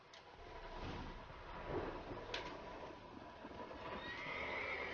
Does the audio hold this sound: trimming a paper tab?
no